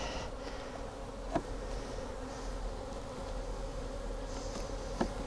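Honeybees hum steadily inside an opened hive full of resources, a dense, even buzz close by with a couple of faint knocks, no talking.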